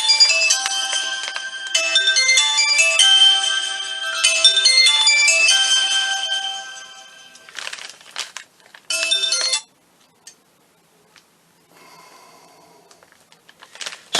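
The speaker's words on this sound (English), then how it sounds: "You shouldn't have a mobile phone with you when you're doing a demonstration." A mobile phone ringtone goes off during a sugar cherry blossom flower-making demonstration, a loud melodic jingle repeating for several seconds before cutting off, followed by faint handling noises and near silence.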